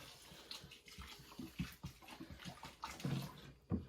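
Roughly a quart of water being poured over pepper seed-starting mix, faint, uneven splashing and trickling for a few seconds.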